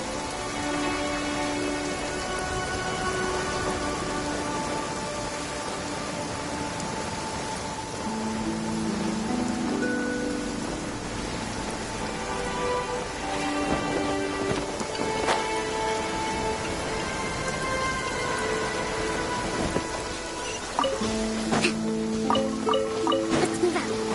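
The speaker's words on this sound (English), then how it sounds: "Marching in the rain conceals the sound of our arrival, but is also a test of stamina." Steady rain pours down in the video game Genshin Impact, a continuous hiss of drops on surfaces with a faint distant rumble, while game music plays underneath throughout.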